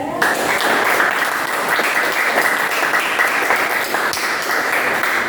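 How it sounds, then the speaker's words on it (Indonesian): Group 3 gets applause from students in a classroom, dense continuous clapping from a crowd of hands, loud and sustained from start to finish. "Kita beri tepuk tangan dulu ke kelompok 3"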